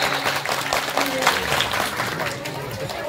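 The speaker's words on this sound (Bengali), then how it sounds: "তার জন্য সবাই জোরে হাত তালি।" A crowd at a Bengali kobi gaan folk song performance claps loudly, a dense, continuous patter of many hands, with a few voices mixed in.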